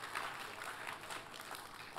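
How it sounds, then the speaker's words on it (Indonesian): A church congregation applauds, with steady, dense clapping from many hands, moderately loud and continuous for the whole moment. "Kita kasih tepuk tangannya yang paling meriah buat Tuhan kita."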